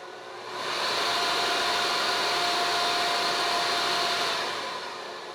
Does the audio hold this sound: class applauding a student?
no